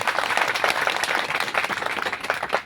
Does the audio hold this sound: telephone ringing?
no